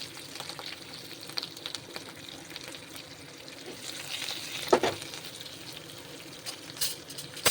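Steady crackling sizzle of tempering spices (dry chilli, cumin, chana dal, curry leaves, asafoetida) frying in hot oil, with a brief louder hiss and clatter of stirring midway; no talking.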